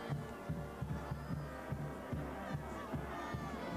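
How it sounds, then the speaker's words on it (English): A big crowd at a 2009 C.I.F. high school football championship game, a steady murmur of fans with periodic thumping beats, likely drums, and bursts of cheering, heard from a distance under a constant stadium hubbub. "They got a big crowd out there"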